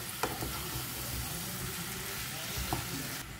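Brinjal is stirred with spice masala in a pan for a home-style vangyachi bhaji, a steady close frying sizzle broken by a few sharp scrapes of the spoon.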